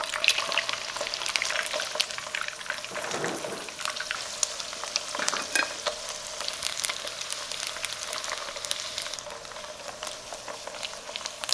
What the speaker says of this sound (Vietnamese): Chiên chín.